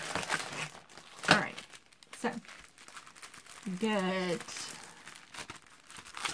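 Paper crinkling and rustling in short bursts close to the mic during a yarn and crafting chat, interrupted by a person speaking.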